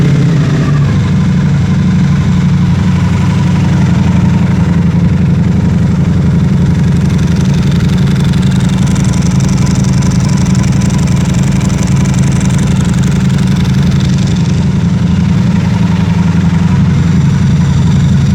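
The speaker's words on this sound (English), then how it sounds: "my first start of my Ducati Multistrada V4 RS with its full Akrapovic exhaust" A 2024 Ducati Multistrada V4 RS with a full Akrapovic exhaust idling after its first start, a loud, deep, steady engine rumble held close and continuous throughout, with no talk.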